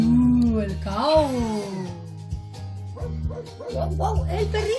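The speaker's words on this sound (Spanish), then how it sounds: "Wow, el perrito, el dog." A dog barks in a children's farm-animal English lesson, a few short yaps and bow-wows heard over bright background music.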